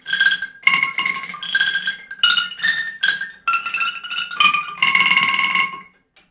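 A bamboo angklung, the Sundanese rattle instrument, shaken in a series of bright, clattering, tuned bursts with a hollow wooden rattle, several short phrases ending in a longer shake.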